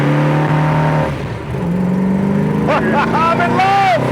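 A 1971 Dodge Challenger R/T V8 accelerates hard from a rolling start, its loud engine note climbing in pitch through the gears, with excited voices talking over it near the end.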